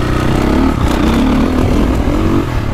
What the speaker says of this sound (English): when you rev it out and then you back off, that's when you feel the difference in the engine braking